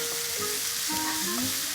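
Rice being stir-fried in a pan for shrimp pilaf, with a steady sizzle and soft scraping stirs running continuously in the background and no talk.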